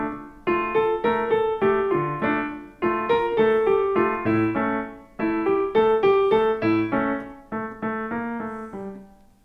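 Piano playing the background melody from a pop song as a steady stream of straight eighth notes in repeating phrases, close and clear with no talking.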